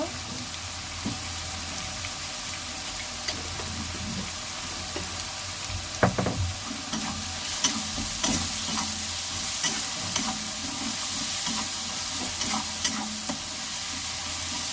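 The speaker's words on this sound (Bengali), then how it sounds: "পেঁয়াজটা লাল লাল করে ভেজে নেব।" Onions sizzle steadily in a hot pan while a spoon stirs them, making sharp scraping clicks and knocks against the metal. The sound stays close, with no talking.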